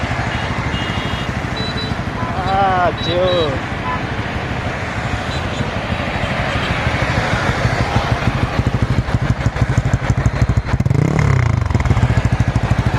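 A motorcycle engine runs close by during a ride in traffic, a steady low rumbling drone that grows rougher and more pulsing toward the end, with people talking over it.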